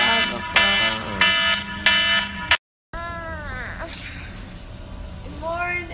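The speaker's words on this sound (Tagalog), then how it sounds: "Alden, yung alarm mo. Patayin mo yung aga-aga pa." A morning alarm sounds in loud repeating electronic beeps, cuts off abruptly, and is followed by people talking.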